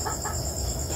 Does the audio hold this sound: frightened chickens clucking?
yes